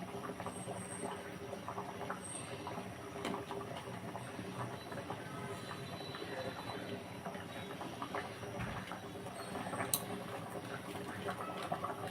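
A pan of vegetarian vegetable curry gravy bubbles at a steady, continuous simmer close by, with a dense wash of boiling noise and no one talking.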